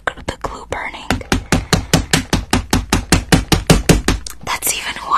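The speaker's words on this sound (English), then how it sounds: "I'm gonna beat you with the hammer so you don't feel the burning from the glue" Hammer blows in a comedic dentist roleplay hit in a fast, even series of about twenty loud, sharp strikes, close and alone.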